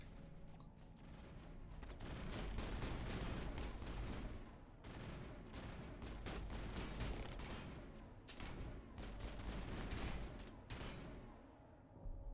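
Rapid sustained gunfire from the video game Mass Effect, dense overlapping bursts of shots at steady loudness with short pauses, no voices.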